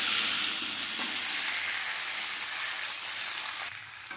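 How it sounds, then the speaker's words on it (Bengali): Papaya and potato pieces frying in hot oil with a few cumin seeds, a steady close-up sizzle that carries on unbroken, with light stirring noises and no voices. "এবারে পেঁপে আর আলুটা দেবো এই তেলের মধ্যে। এবারে ভালো করে সবজিগুলো একটু হালকা করে ভেজে নেব।"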